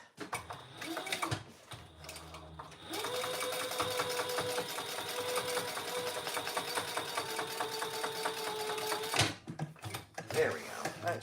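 A home sewing machine runs in a steady, fast stitching burst for several seconds, motor whir and needle chatter close and even, with brief clicks and handling noise before and after and a voice speaking around it.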